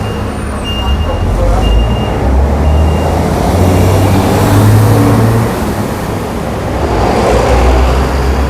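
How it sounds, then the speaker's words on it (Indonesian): Steady, loud road traffic rumbles past a bus stop on a sunny winter day, with heavy engines swelling and fading as vehicles go by and no talking over it. "Nah, di sini tempat nunggu bis ya."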